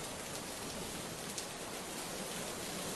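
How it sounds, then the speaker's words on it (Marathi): Steady, faint wash of rain falling in Nagpur: an even, unbroken hiss across the whole stretch with no distinct thunderclap standing out. "ढगांच्या गडगडाटासह नागपुरात पाऊस सुरू आहे"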